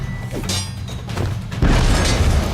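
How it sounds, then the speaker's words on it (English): A thrown bomb bursts in The Witcher 3: Wild Hunt with a deep boom and crackling debris, preceded by lighter game sounds and followed by a sustained rumbling tail. "Throw a bomb."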